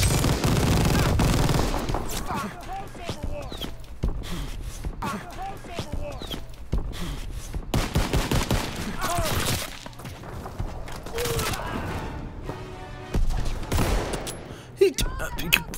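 Rapid bursts of gunfire from Call of Duty WW2 multiplayer, with dense automatic rattles and scattered single shots in an ongoing firefight, while a player talks over the action.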